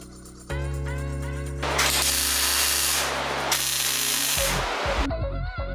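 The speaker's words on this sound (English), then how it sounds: "yes, I am tack welding these. It's 16 gauge steel." Tack welding 16-gauge steel caps for a custom bicycle triple-tree fork: a loud, steady hiss and crackle of the arc running for several seconds with a strong low hum underneath, then breaking off into short sputters.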